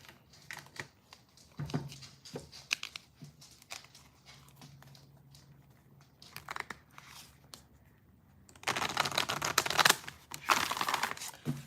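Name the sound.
shuffling tarot cards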